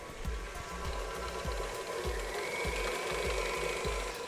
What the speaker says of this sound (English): Now let's turn it up to high and leave it to keep mixing for a couple of minutes until the cream cheese gets light and fluffy.